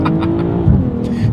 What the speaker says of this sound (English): Pop, pop, pop, pop, pop. For cars like this, gosh, I love that exhaust.